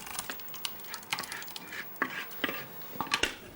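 Lentil puree scraped from a blender into a saucepan, with light clattering, scraping and knocks of utensils on metal and glass, a quiet series of irregular taps close by.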